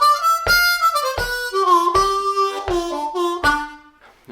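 A harmonica plays the turnaround lick from a song, a bluesy phrase of sharp, reedy notes, triplets and bends, clear and close with no voice.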